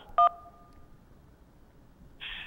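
A single short telephone keypad tone from pressing a number, a brief clear beep alone in near silence, followed by a faint hiss.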